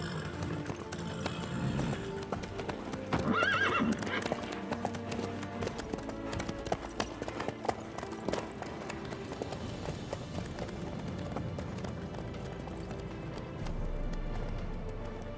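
A horse clip-clops at a steady gallop in The Witcher 3, its hooves drumming rhythmically beneath a dense game soundscape, with a brief neigh-like rise early on and no clear talk.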